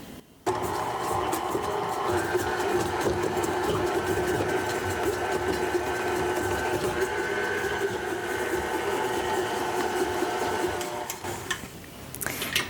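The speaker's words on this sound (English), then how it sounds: "So here we are at the KitchenAid stand mixer. I've attached the bowl. So let's just lower the paddle. And I'll put this on a medium-high setting" A KitchenAid stand mixer with a paddle attachment cuts butter into a wheat cracker flour mixture on medium-high. Its motor whirs in a steady, close, mechanical drone that starts abruptly and stops near the end.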